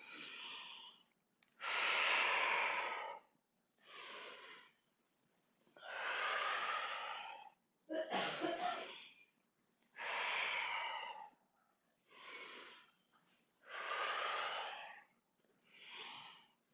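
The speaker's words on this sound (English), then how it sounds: "I'm doing 2 breaths." Slow, deep breathing during a floor mobility exercise, with long audible inhales and exhales alternating in a steady rhythm, close and clear and with no talking.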